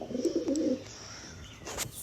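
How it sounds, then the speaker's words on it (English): Pigeons or doves coo softly in low repeated phrases around an outdoor recording spot, with a few faint chirps and brief higher bird calls near the end, moderately close and with no talking. "Time to time you'll hear some birds because I have birds around of all kind."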